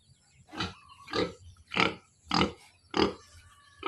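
Pigs in a backyard pen grunt in a steady series of six loud, close, evenly spaced snorts, with quiet gaps between each one.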